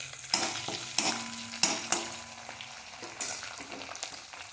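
Ginger-garlic paste and a bay leaf sauté in hot oil with a close, steady sizzle, broken by a few scraping stirs and knocks of a spoon against the pan.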